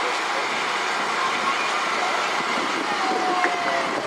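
Union Pacific locomotives 8174 and 8177 lead a train past on a Nebraska line as a steady, loud rumble and rush with faint wheel squeal, voices murmuring in the crowd beneath.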